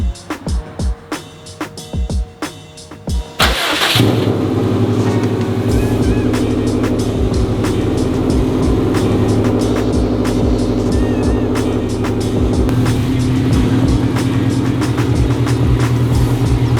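A neglected 2004 Subaru STI engine, its cooling system being bled, cranks with a few broken clicks and knocks, then catches at once and settles into a loud, steady, slightly lumpy idle right up close that keeps running.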